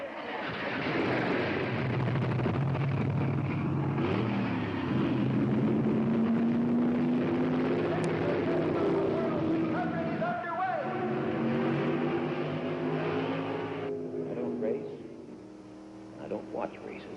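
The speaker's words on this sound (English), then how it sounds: "Gentlemen, start your engines!" NASCAR race car engines start and rev together in a loud, steady roar with rising and falling engine tones, with voices mixed in over the noise.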